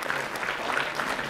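An audience claps at an awards ceremony, a brief steady wash of applause without pauses.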